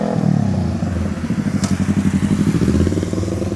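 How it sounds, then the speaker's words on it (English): A motorcycle engine putters and rattles nearby in a vegetable garden, a quick rhythmic pulsing that builds briefly as it passes, with no talking. "it was a motorcycle that went by"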